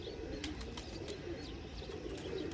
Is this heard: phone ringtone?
no